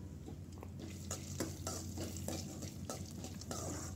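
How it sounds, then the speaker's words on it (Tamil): Cashews and roasted gram are stirred as they roast in oil for a masala pori snack. A soft, continuous sizzle is broken by rhythmic scraping strokes of the stirring spoon against the pan. "அதுவும் அதையும் சேர்த்து எல்லாத்தையும் நல்லா வறுத்துக்குங்க"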